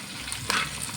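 Ginger, garlic and green chili sautéing in a pan for mutton curry, a brief close burst of frying sizzle with a short louder crackle midway and no voices.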